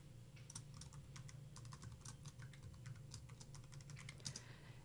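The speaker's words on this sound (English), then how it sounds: "I am going to type my username and my password." Quiet typing of a username and password on a computer keyboard, a steady patter of light keystrokes over a constant low hum, fairly faint and with no one speaking.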